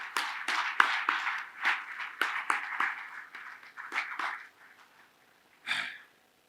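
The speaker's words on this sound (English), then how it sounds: "just a round of applause for both of them" A small audience gives a short, thin round of applause, scattered individual claps that taper off, followed by a brief breathy sound near the end.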